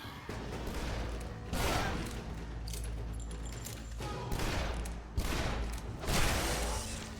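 Repeated bursts of gunfire in Shadow Warrior (2013), rapid volleys with short pauses between them, fairly close and dense, coming in roughly four clusters over a few seconds.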